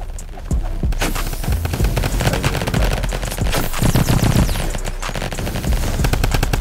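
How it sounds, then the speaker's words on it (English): Gunfire in Roblox Flag Wars: loud, rapid automatic bursts rattle almost continuously, dense volleys of close shots with brief gaps, heard on their own without talk. "I'm getting shot at."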